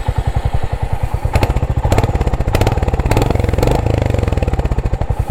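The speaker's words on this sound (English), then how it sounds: "I'll turn on the motorcycle and I'll make you hear the exhaust sound" A Royal Enfield Hunter 350 motorcycle idles close by, its exhaust giving a steady, rapid low thumping pulse with slight swells in loudness, heard alone without talk.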